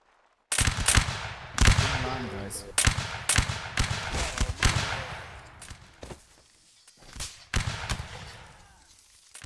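Ragged musket volleys crack out across a line battle reenactment by the 75th Stirlingshire, loud close bursts repeating irregularly over about nine seconds, with shouted commands and voices mixed in between shots.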